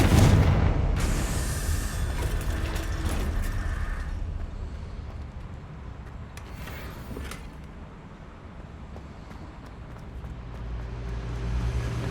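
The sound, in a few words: Confringo spell explosion in the Hogwarts Legacy video game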